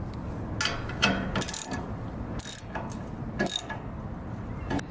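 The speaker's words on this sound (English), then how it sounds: "And then just go ahead, screw it on, finalize it with tightening it down." A ratchet tightens a bolt on a demon shackle bracket being fitted to a Toyota Tacoma, giving a run of close, rapid mechanical clicks with a few louder metallic knocks in between.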